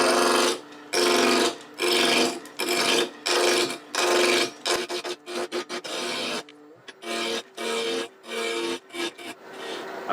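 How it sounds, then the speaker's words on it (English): A spindle roughing gouge cuts a wooden blank spinning on a lathe between centers, giving loud rasping bursts in a rough rhythm of repeated passes, separated by short pauses. "I'm using a spindle roughing gouge for this task. Just get it round."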